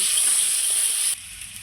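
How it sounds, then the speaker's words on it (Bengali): Potato pieces frying in oil with a little powdered salt give a loud, close, hissing sizzle that drops abruptly to a quieter level partway through. "এই আলুটাকে খুব সুন্দর লাল লাল করে ভেজে নেব।"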